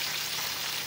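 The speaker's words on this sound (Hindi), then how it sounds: "डीप फ्राई की है इसको, फ्लेम तेज़ था" Chicken deep frying in hot oil over a high flame, a dense, steady sizzling hiss that fills the short moment without any voices.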